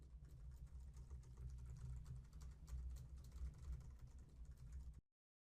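A computer keyboard is typed on in a quick, continuous patter of soft key clicks for about five seconds, close up over a low hum, then cuts to silence.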